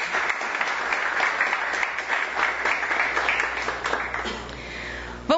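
Sustained applause from a sizable audience at a municipal council session, dense even clapping that continues throughout before a brief thump near the end.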